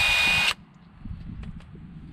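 Power tool tightening hardware on a boat trailer, a brief loud buzzing whir lasting half a second that stops abruptly, followed by quiet handling noises.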